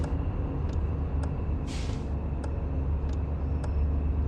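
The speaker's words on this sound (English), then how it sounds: "Even hear those air brakes" In Truck and Logistics Simulator, a truck's air brakes give a short sharp hiss of released air over a steady engine rumble and road noise, with faint regular clicks like a turn indicator ticking throughout.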